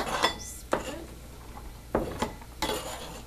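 Chopped onions and garlic are scraped into a bowl with a few sharp clinks and knocks of utensil against dish, spaced irregularly over about three seconds, close and fairly quiet.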